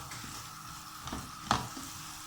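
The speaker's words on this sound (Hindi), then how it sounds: "देखिए बस इस तरह से हम इसको थोड़ा सा भूनेंगे घी में खोए को" Khoya roasting in ghee for carrot halwa over a low flame makes a soft, quiet sizzle, broken by a few light spatula scrapes and one sharper tap.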